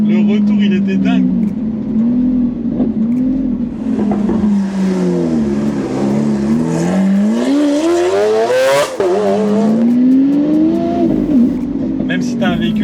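A Hamann-tuned Lamborghini Aventador drives past with a loud, continuous engine roar. The pitch swells and dips as it revs up and eases off, with a sharp exhaust crackle partway through, and a voice talks over the sound.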